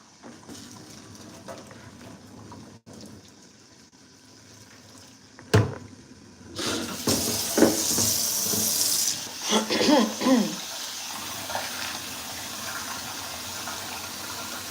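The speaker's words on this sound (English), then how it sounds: "Let me wash this rice." Rice is rinsed under running tap water in a sink, a quiet splashing at first that swells into louder, sloshing rushes of water partway through, with a sharp clatter just before.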